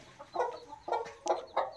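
A desi hen clucks in a steady series of short, throaty calls, about four clucks, close and moderately loud.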